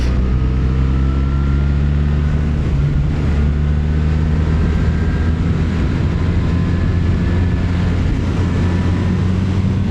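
A BMW R1300R motorcycle engine under way, a loud steady drone with layered engine tones that shift in pitch as the rider changes gear, mixed with wind rush throughout.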